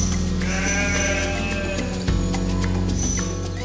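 Several sheep bleat loudly and continuously over steady machine hum at a dairy farm producing milk for feta, overlapping calls with layered harmonics.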